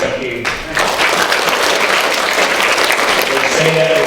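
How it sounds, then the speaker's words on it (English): At a university alumni panel, a brief moment of quieter sound gives way after about half a second to a full, steady round of applause from the audience for the Vice-Chancellor. "a round of applause, please, ladies and gentlemen, for the Vice-Chancellor"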